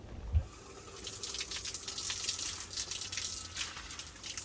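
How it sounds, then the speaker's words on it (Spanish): Water gushes from a garden hose used for an outdoor bath at Punta del Diablo, Uruguay, a steady, close splashing rush that begins after a brief thump. "vamos a dar un baño de manguera"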